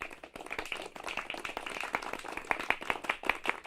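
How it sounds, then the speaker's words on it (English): A crowd claps steadily in a small venue during a live talk show taping, the clapping fairly quiet and a little uneven, with sharper individual claps near the end. "Can Clark County get a round of applause?"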